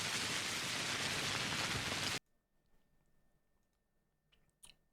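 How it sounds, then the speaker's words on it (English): Steady loud rain from the video game Pathologic pours for about two seconds, then cuts off abruptly, leaving near-silence with a few faint clicks and taps. "Has no one told you the rain is playing loud this one time?"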